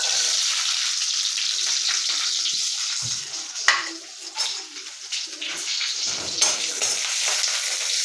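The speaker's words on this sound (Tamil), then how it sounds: "கொஞ்சோண்டு எண்ணெய் ஊற்றணும் சின்ன வெங்காயம் போடணும்" Small shallots fry in a little sesame oil for a jackfruit-seed curry, producing a close, steady sizzle with occasional spoon knocks and stirring scrapes against the pan.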